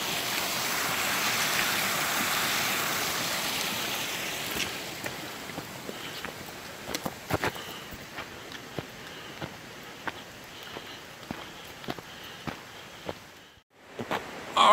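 The Duckabush River rushes steadily at a distance, a constant broad hiss, with scattered footsteps and small clicks close by on the trail.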